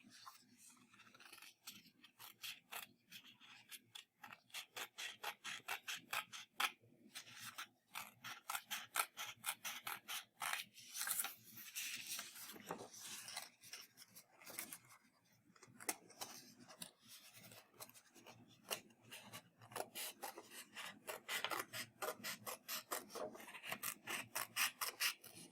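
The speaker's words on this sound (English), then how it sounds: "Now I'm going to cut out one little one" Scissors snipping through paper to cut out a small icicle shape, a long run of quick, close, dry crunching cuts in bursts with short pauses, quiet and with no talking.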